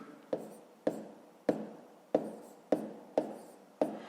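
Pen or pencil writing numbers in a school maths exercise, seven short scratchy strokes about half a second apart, each a crisp attack fading quickly, close and quiet with no talking.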